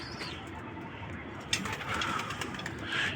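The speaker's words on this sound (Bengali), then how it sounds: "ওই যে বের হচ্ছে আমার এই কবুতরগুলো" Racer pigeons stepping out of their home loft coo softly at a distance, with faint scattered bird sounds over a quiet outdoor background.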